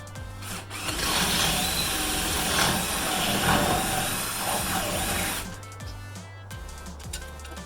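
Power drill boring a hole with a larger bit, a close steady whirring grind for several seconds that then winds down and stops.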